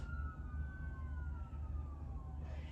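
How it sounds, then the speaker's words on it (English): An ambulance siren heard at a distance, a steady wailing tone gliding slowly downward as it passes, faint over a constant low rumble of traffic. "And there's the second ambulance."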